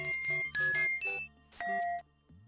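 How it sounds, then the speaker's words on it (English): A phone notification sounds a short melodic run of bright chiming tones, fairly clear and close, ending within a couple of seconds. "that's my phone"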